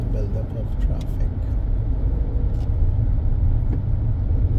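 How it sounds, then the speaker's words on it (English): Road traffic builds up at the Hothersall roundabout in St. Michael, Barbados, as a steady close rumble of car engines and tyres heard from inside a vehicle, with a voice talking over it. "Build-up of traffic."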